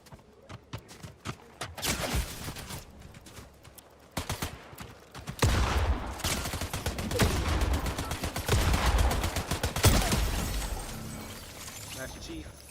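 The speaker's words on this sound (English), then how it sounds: "Who's shooting at me?" Gunfire in a Halo video game, with repeated bursts and shots, some shattering impacts, growing louder and denser in the second half, with people talking over it.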